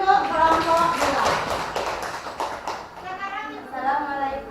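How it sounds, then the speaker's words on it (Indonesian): Students in a classroom clap for group 2, a brief burst of rhythmic hand claps surrounded by talking voices. "tepuk tangan untuk kelompok 2"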